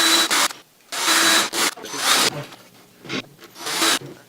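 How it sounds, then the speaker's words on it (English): A power drill fitted with a pilot hole bit bores into a wooden frame, giving several short, rough grinding bursts separated by brief pauses. "Take our pilot hole bit and our drill."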